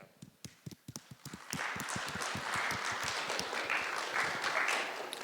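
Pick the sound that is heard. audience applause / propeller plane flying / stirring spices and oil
audience applause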